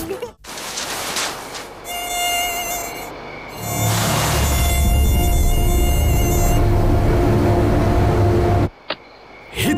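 Insect buzzing in an Indonesian TV advert for an instant mosquito-killing spray, a steady high whine over a loud low hum that runs through most of the clip before cutting off near the end.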